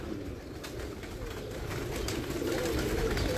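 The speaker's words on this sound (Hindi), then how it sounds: "तेज़ कबूतर।" Pigeons coo softly in a low, rolling murmur that continues steadily at a moderate distance, under a busy outdoor background.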